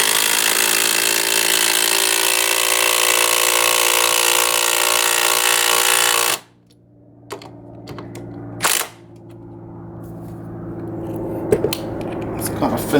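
A Milwaukee Fuel Gen 1 impact driver hammers loudly and continuously into wood for several seconds, then stops abruptly, followed by quieter clicks and handling sounds.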